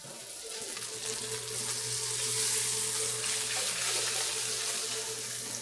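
Fish sears in a smoking-hot pan, a steady, loud, broadband sizzle with a low hum underneath that runs unbroken throughout, with no voices.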